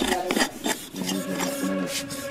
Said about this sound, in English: Probably scraping it is the only way.